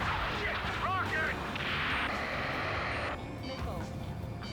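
Rocket and missile fire during an air combat mission in the Ace Combat 7 video game, with dense explosive bursts and roaring blasts layered over engine rumble, while voices talk over the steady loud din.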